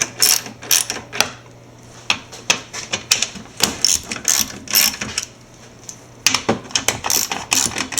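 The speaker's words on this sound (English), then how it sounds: "there's simply 4 bolts to undo with a 10mm socket" A ratchet with a 10mm socket undoes the top bolts of a 2013 Suzuki SX4 fog light assembly, giving rapid, close metallic clicking in repeated bursts with short pauses between strokes.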